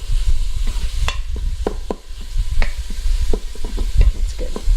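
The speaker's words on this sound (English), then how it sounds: "this sausage is pretty lean. I'm going to add just a little bit of olive oil to help it brown up." Lean sausage browning in a little olive oil inside an Instant Pot, with a steady low sizzle broken by repeated sharp scrapes and clicks of a utensil stirring the meat, close and alone.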